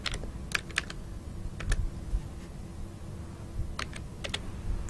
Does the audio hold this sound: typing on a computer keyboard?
yes